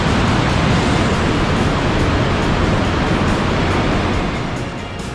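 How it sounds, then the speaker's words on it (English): Mountain meltwater rushes through Glacier Canyon, a sheer-walled gorge in Switzerland, as a steady, loud broadband roar of churning water with no let-up, fading slightly at the end. "the water from the mountains rushes down to join the Lugano River at their base"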